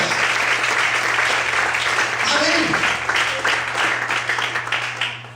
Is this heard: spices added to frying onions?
no